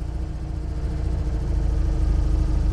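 An Invacar's small engine idling at high revs, too fast for the clutch to disengage, a steady close drone that swells slightly louder over a few seconds, with no one talking.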